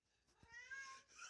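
A house cat lets out one short, close meow that rises and trails off within about a second, with no other sounds around it.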